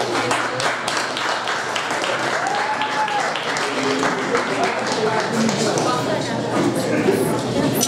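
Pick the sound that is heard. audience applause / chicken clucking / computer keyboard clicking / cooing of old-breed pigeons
audience applause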